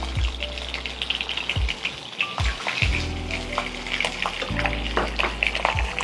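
Pabda fish hit hot oil tempered with black cumin seeds, setting off a loud, continuous sizzle with crackling spits and a few low knocks of the pan throughout.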